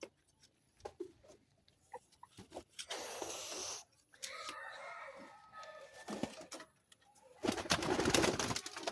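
Pigeon cooing close by in short, soft bursts with gaps between them, faint overall, with scattered handling noises.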